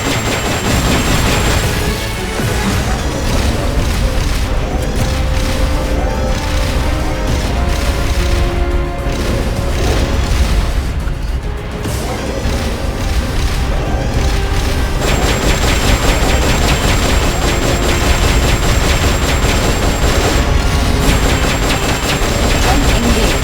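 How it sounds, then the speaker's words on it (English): Rocket launcher fire in Metal Gear Solid: Peace Walker, giving repeated deep booms and crashing impacts with a continuous rumbling, loud and dense throughout alongside game music. "Firing rocket launcher."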